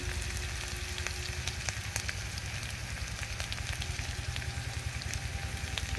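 Potatoes with turmeric fry in a pan, a soft, continuous crackling sizzle with faint clicks of stirring and a low background rumble.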